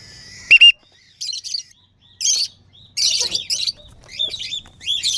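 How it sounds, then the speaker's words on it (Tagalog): Pet birds chirp and tweet in short bursts, one loud nearby call followed by a series of bright twittering calls, with no talking. "Magpapalipad tayo ngayon. Ng ating mga alagang ibon."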